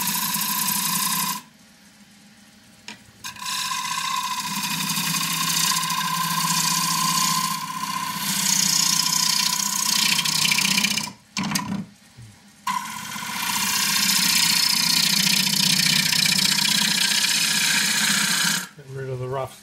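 A loquat bowl spins on a wood lathe while a gouge cuts it, giving a loud, steady rasping whir. The cut drops out briefly about three times, then the rasp resumes.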